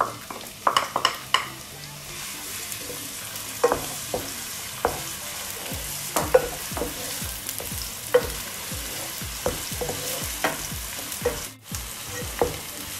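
Onion sizzles and fries in olive oil in a cooking pan for a beef lasagna, with steady crackle and repeated sharp scraping stirs throughout, no talk.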